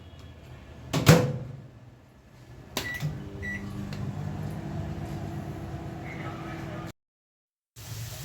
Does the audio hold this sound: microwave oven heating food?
yes